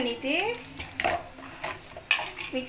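A spoon clatters and scrapes against a pot while fried okra is stirred into a tamarind curry (vendakkai puli kuzhambu). The clinks are close, irregular and moderately loud, with a person talking over them.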